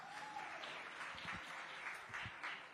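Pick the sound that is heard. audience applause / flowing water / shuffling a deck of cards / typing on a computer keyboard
audience applause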